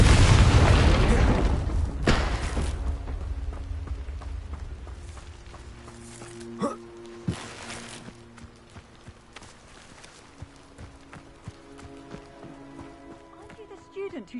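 Confringo fire spell explosion in the video game Hogwarts Legacy: a loud, deep, roaring boom that slowly fades over several seconds, followed by sparse hoof-like thuds and light game effects.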